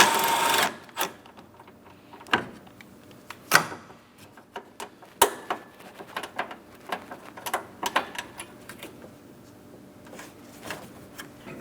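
A 10mm bolt is worked loose by hand tools on a 2008-2016 Chrysler Town & Country 3.8L V6 during radiator work: close, irregular clicks, ratchet taps and metallic knocks separated by brief pauses.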